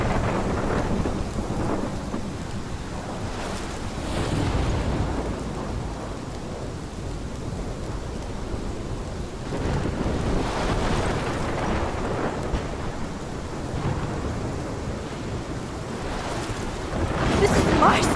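Steady downpour of rain with repeated rolling thunder rumbles in the Life Is Strange video game, loud and continuous, with faint voices underneath.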